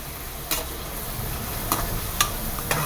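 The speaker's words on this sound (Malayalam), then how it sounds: "അപ്പോൾ എണ്ണ ചൂടായപ്പോൾ ഉള്ളി പച്ചമുളകും ഇട്ട് കൊടുത്ത്" Onion and green chilli frying in hot coconut oil, a low steady sizzle with a few sharp clicks of a spoon stirring the pan, close and alone.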